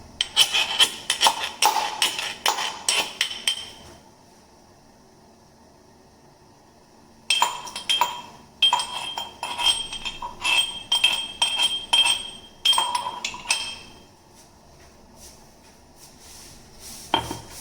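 Fresh ginger pounded into a mash for chai, with rapid, loud metallic clinks and thuds in dense bursts, a pause of a few seconds, then more steady pounding.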